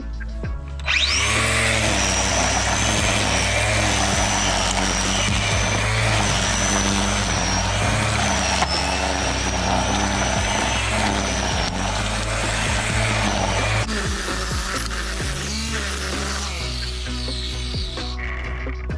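A Black&Decker STC1820 cordless grass trimmer runs on a 2 Ah battery, giving a steady, loud motor whine that holds almost unbroken for the whole stretch, with a small shift in tone near the end.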